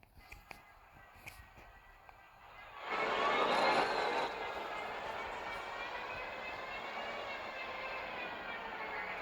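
Roller coaster train in the game Planet Coaster running along its rails, a steady loud rushing rumble that swells abruptly and then holds a sustained whooshing drone, with faint clicks beforehand.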